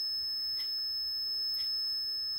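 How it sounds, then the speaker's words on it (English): A smoke alarm gives two short high-pitched beeps about a second apart, faint over a steady electronic hum, with nobody speaking. "Again, we got an alarm."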